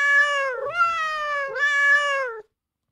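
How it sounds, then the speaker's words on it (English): A cat meows three times in a row, each a long, clear, whiny call, loud and close, with no other sounds. "a cat."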